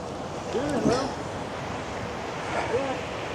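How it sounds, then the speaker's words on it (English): Large sea waves churn and wash in a broad, steady roar mixed with wind buffeting the microphone, while someone talks over it in two short bursts. "Massive waves today."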